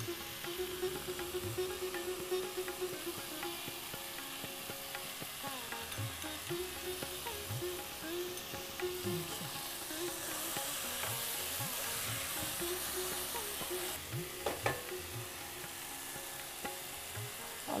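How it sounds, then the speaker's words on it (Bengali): Meat frying in a pan for kaju chicken gives a steady, fairly quiet sizzle, with soft scraping stirs coming back now and then through the stretch. "মাংসটা দিয়ে তারপরে আবার কষতে হবে।"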